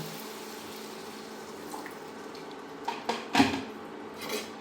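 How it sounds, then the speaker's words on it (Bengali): Water goes into a pan of fried spices while a Bengali-style katla fish bhuna is cooked; a soft, steady wash of pouring sits under a few sharp clinks of metal utensils against the pan, close and moderately loud. "এখন মশলাটা কষানো হয়ে গেছে, দিয়ে দেব জল"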